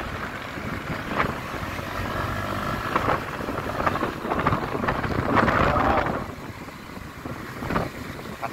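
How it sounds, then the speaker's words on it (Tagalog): Strong wind rushes past the microphone on a Skygo Lance 150 motorcycle during a long road ride, a loud continuous buffeting roar that swells and fades with gusts. "lakas ng hangin."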